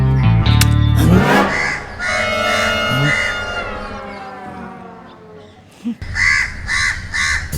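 A voice speaks at first, then a crow caws several times in a short series, with more loud caws near the end.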